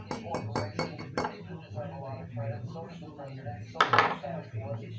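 Salt and pepper stirred together in a container, a run of clinking, scraping strikes at the start and a louder rattle near the end, with a person talking over much of it.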